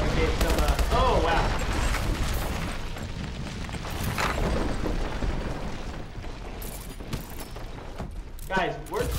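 HBR rifle fire in a multiplayer first-person shooter game: repeated sharp gunshots and bursts in an ongoing firefight with booms, under steady talking from a player throughout.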